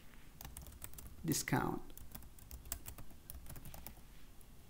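Fast keyboard clicks as someone types an SQL query on a computer keyboard, steady and close, with a brief spoken word partway through.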